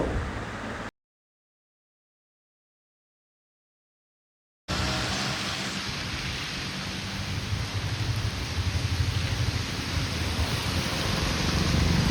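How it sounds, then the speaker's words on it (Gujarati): Heavy rain falling in Vadnagar, a broad steady hiss that cuts out briefly near the start, then returns and swells slightly louder, with no voices. "વડનગર આવ્યા છીએ મિત્રો અને વરસાદ ચાલુ થઈ ગયો છે"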